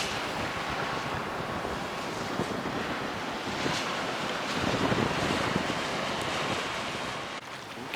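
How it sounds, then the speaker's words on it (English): Steady wind roars and rushes past a single-handed sailboat beating to windward at nearly five knots, mixed with the wash of water along the hull, loud and unbroken throughout. "the wind's filled in a bit and it's in not too bad a direction"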